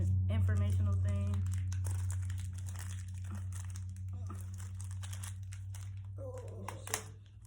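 Packaging from a Bratz toy crinkles and tears as it is opened, a busy crackling texture over a steady low hum while a person talks.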